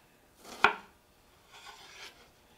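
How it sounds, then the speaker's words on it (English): A knife chops cucumber on a board: one sharp, close knock followed by softer cutting strokes, with no talking. "If you're good at chopping, then you can chop two at a time."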